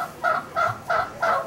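Turkeys gobble on a farm animal sanctuary, four loud, close, rhythmic gobbling bursts in quick succession, evenly spaced and heard alone.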